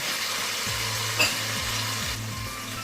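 Garlic and onion paste sizzles steadily in a hot pan for a Hilsa herring fish curry, a constant bright frying hiss with soft scraping strokes of stirring every half second or so and one brief clink.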